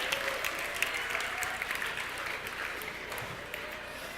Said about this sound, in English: I think you deserve a huge applause for yourself.